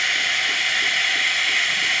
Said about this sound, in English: we're really just testing to see if steam comes out through the spout.